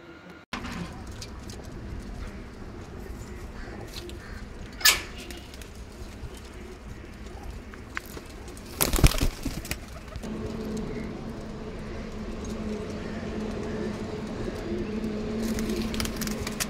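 Soft, low cooing of red-eyed high-flyer pigeons continues through the clip amid background noise, with a brief clatter and a louder rustle partway through.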